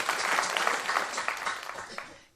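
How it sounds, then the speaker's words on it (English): Applause from an audience at a millennial town hall on race and culture, a dense burst of clapping that holds steady and then fades out over a couple of seconds. "clap it up."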